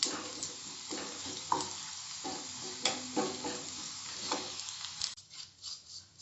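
Chopped garlic sizzles in a pan for dal tadka while a spoon stirs it, a close, continuous crackling fry with short scraping strokes that quiets toward the end.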